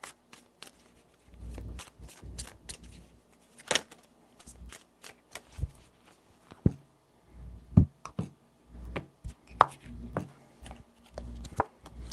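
Tarot cards are shuffled by hand in a quiet room, giving a series of soft, irregular riffling slaps and taps, with a few sharper clicks spread across the stretch.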